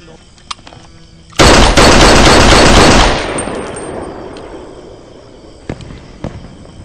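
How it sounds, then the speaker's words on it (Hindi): Firework rockets bursting at a celebration: a loud, dense crackling blast erupts suddenly and sustains for about two seconds, then decays into a fading rumble, followed by a couple of faint distant pops. "रॉकेट फटने के टाइम दिखाई पहले देता है, सुनाई बाद में देता है"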